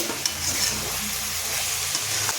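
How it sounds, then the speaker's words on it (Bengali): Green chilies fry in a pan for homemade chili sauce, giving a steady, close, broadband sizzle with the scrape of stirring running throughout and no voices. "এখন লঙ্কাটাকে ভাজা ভাজা করে নিতে হবে"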